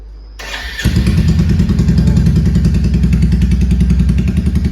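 A Royal Enfield Classic 350 with its silencer removed starts up close by. It fires within a second into a loud, raw, rapid thumping idle from the open exhaust that keeps going steadily.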